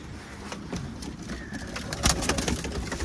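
Arab tumbler pigeons at a loft, with soft cooing and flapping wing claps over a low outdoor background, a few louder bursts toward the end.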